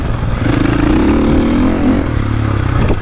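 A 450cc motocross dirt bike ridden on a dry hard-pack track, the engine a loud, close rough drone that rises in a revving surge, then settles and picks up again near the end.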